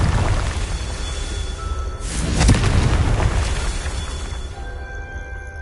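A fiery Confringo spell blast in the video game Hogwarts Legacy, a booming explosion swelling midway over rumbling game ambience and then trailing off.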